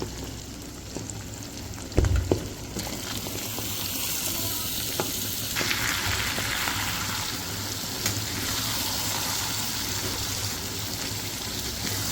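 Eggplant frying in oil rendered from fish belly, a steady close sizzle with a clatter near the start followed by continuous bubbling and occasional stirring scrapes, without speech.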